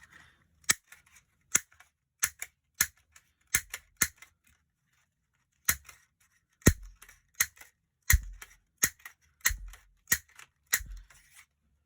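Scissors cut paper flower shapes with a series of sharp, crisp snips, close and fairly loud, coming in irregular bursts separated by brief pauses, with no talking.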